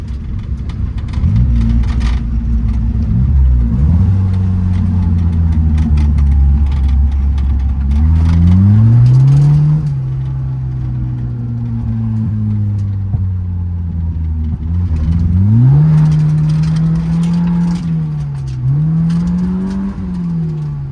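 A Toyota Corolla with a 3TC engine revving hard while drifting on dirt and gravel, its pitch rising and falling repeatedly through surges and shifts, loud and close, with tyre and gravel noise underneath.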